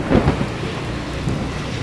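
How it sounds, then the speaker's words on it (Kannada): A low rumble of thunder rolls through a rainstorm, strongest at the very start and then fading under a continuous hiss of falling rain. "ಸಿಡ್ಲು"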